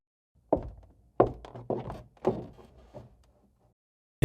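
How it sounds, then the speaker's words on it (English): Irregular dull thumps come from an attic overhead, a handful of soft knocks and bumps spaced unevenly over a few seconds, muffled and moderately quiet. "the thumping was a lot louder now and directly above me"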